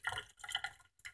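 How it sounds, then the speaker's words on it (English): Water from a kitchen sink tap runs into a tablespoon, giving short, close splashing and trickling bursts broken by a brief pause. "we go over to our sink, our water dispensing unit, and we turn it on."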